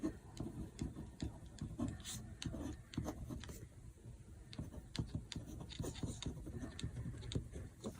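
Pen scratching out Merry Christmas by hand on a scrap of paper, close and quiet, with a steady run of small ticks and strokes and short pauses between letters.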